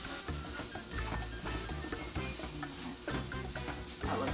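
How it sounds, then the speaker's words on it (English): Mahi mahi sizzling and frying in a hot pan after being deglazed with lime juice, with steady crackling spatter and stirring clatter close up, no talking. "deglaze the pan with a little lime juice"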